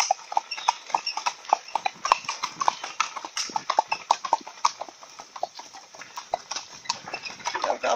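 Hooves clip-clop in a brisk, steady rhythm on hard ground as a horse pulls a charrete cart, close by, with faint rattling between beats.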